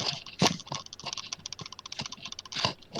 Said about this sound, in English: Oh, clickety-clack again, Cody.